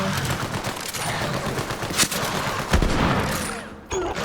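Gunfire in Borderlands 3 rattles out in bursts over a constant background din of the firefight, with sharper cracks standing out near the middle and end of the stretch.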